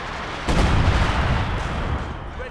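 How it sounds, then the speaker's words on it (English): Mortar pit firing in the Company of Heroes 2 video game, a heavy booming thump that starts at once and rolls on as a broad, continuous rumble of gunfire and explosions, fairly loud with no voices over it. "It hits from the mortar pit."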